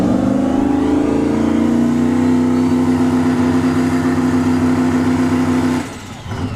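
A turbo LTD wagon and a Tesla Model S Plaid launching at a dragstrip during test and tune, a loud sustained droning engine roar with a steady tone that drops away sharply near the end.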